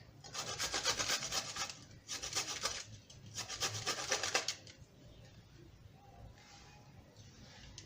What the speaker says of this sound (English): So I will grate it at the finer side.